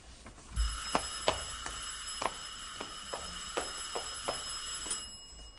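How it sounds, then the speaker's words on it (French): A telephone bell rings with a steady electric trill, its clapper striking in a regular series of repeated pulses at moderate distance, with no voices. "Bon, allons, le téléphone."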